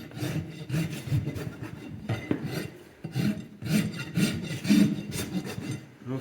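A hoof rasp files the flare off a horse's hoof in rhythmic rough strokes, each scrape a gritty burst with short pauses between, close and fairly loud.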